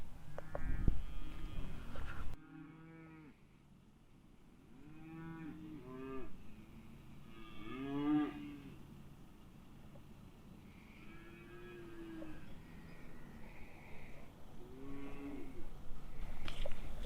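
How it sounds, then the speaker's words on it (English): Cattle being fed in the countryside near Nore Folly moo loudly and repeatedly, several long, drawn-out calls from nearby animals overlapping across the scene with steady outdoor background noise. "Moo cows."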